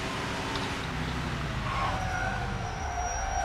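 A police car siren wails in the Mafia II video game, a sustained rising and falling tone layered over a steady roar of car engine and road noise during a high-speed chase.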